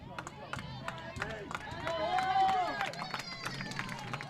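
Crowd at a high school softball game, East View Patriots vs Glenn Lady Grizzlies, clapping and cheering in a swelling burst that peaks midway, with an announcer talking over it.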